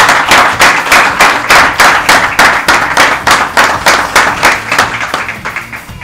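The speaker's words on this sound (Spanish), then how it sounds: "un aplauso para Diego y todo el equipo por el esfuerzo" Audience applause at an inauguration ceremony, loud rhythmic clapping in steady, evenly spaced bursts that slowly fade near the end, with no talk over it.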